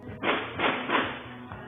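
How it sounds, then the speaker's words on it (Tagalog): Successive gunshots are caught on a security camera on a street in Barangay Tejero, Cebu City, one afternoon. About four muffled, thudding bangs come at uneven intervals and sound thin and band-limited, as from a distance. "umalingaw-ngaw ang sunod-sunod na putok ng baril"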